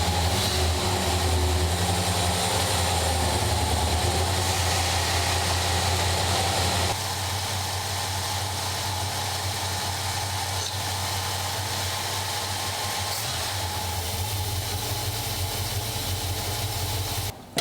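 A carbureted car engine idles steadily as it warms up for carburetor tuning, exhaust piped out of the house; a constant low droning hum whose level drops slightly partway through and cuts off abruptly at the end.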